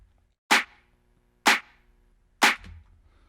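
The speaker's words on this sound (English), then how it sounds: "And then the claps here, I'm going to be giving these away" Three crisp electronic handclaps, evenly spaced about a second apart, each a sharp snappy hit with a short tail, loud and alone.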